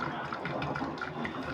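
A washing machine in its rinse cycle churns water quietly, a soft continuous sloshing and hum with faint rhythmic swishes, close and steady throughout.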